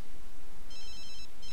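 A telephone rings in The Sims 3 with repeated electronic trill bursts in a steady pattern, heard clearly over a constant background hiss.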